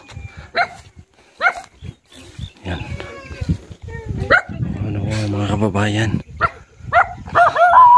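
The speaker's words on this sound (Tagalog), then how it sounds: "May aso sila dito." A dog barks and growls in short bursts amid someone talking, with a longer rough, rumbling vocalization in the middle.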